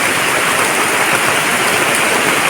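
Heavy downpour pounds on a small hut, a dense, steady, loud hiss of rain with no break and no voices.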